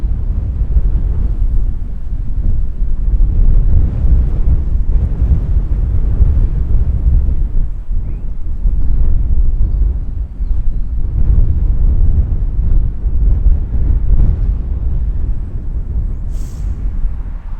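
Strong outdoor wind buffets the microphone in a continuous loud low rumble with gusty swells and dips throughout, and no one speaks.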